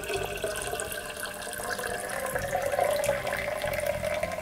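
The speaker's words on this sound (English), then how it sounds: "Now we're going to top up with plain water till the wine comes up to the neck." Plain water pours steadily into a home wine kit's fermenter to top it up to the neck, a continuous close trickling and splashing, alone without talk.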